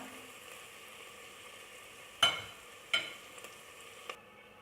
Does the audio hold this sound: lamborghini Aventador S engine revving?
no